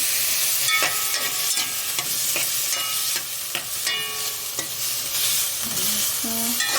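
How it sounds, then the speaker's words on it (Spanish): Octopus sizzles in a hot pan for a seafood stew, a continuous close frying hiss broken by repeated scraping stirs and clinks of a utensil against the pan, with no voices. "A cocinar nuestro pulpo. Ahí lo pasamos unos 3 minuticos."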